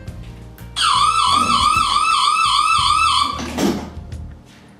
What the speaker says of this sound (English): We've got hooked up to Jack and his little siren, and then Justin will walk through